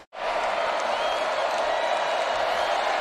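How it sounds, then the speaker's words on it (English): Stadium crowd at a college football game between Arkansas-Pine Bluff and Oklahoma State, a loud steady roar of cheering that holds continuously after a brief dip at the start, with no clear pauses. "Crowd building."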